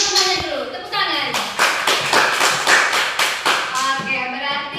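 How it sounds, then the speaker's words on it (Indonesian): A class of students claps along in a classroom science lesson, a run of quick, fairly even hand claps at close range, with children's voices and chatter around the start and end. "Oke, tepuk tangan semuanya dulu"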